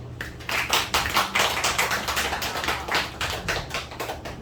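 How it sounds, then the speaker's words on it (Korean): A church congregation claps in a dense, crackling burst of applause that carries on steadily for a few seconds, with no voices over it. "박수."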